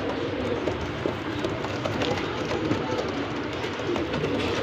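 Pigeons coo softly over a busy, rumbling background in Lahore, with the bird calls blending into continuous outdoor noise.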